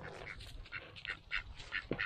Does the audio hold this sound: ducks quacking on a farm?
yes